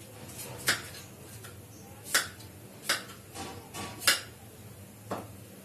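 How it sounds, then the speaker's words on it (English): A knife chops raw mangoes into pieces on a board, several sharp separate cuts spaced irregularly, close and fairly quiet with light background hiss. "let's go ahead and cut these raw mangoes into pieces"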